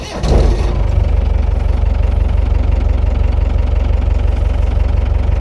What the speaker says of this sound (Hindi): चलिए इंजन को एक बार स्टार्ट करते हैं।